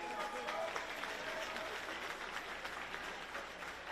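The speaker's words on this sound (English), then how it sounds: "Let's give him a round of applause." Audience at a virtual career academy closing celebration applauding a young man, a sustained round of clapping, moderately distant, with some voices mixed in.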